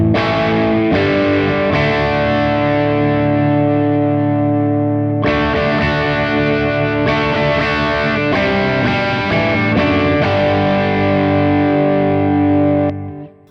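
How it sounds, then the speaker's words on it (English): Electric guitar played through a Tube Screamer overdrive model on a Sonicake Matribox multi-effects unit, loud and driven, with sustained chords and riffs ringing over nearly fourteen seconds before a final chord fades out. "Tube screamer."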